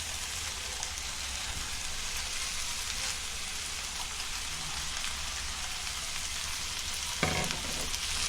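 Chicken saroley sizzling and frying steadily in ghee in a pan, a dense crackling hiss throughout with a brief clatter of stirring near the end.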